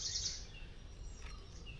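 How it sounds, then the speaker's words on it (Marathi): High, bright bird chirps burst at the start at a farm stay in Kankavali, Maharashtra, then fainter calls scatter over a quiet outdoor background. "किलबिलाट नुसता अगदी"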